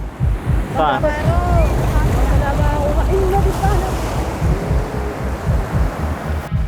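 Ocean surf breaking along a rocky Indonesian shore where women gather seaweed, a continuous wash of waves and wind buffeting the microphone, with voices calling out over the water.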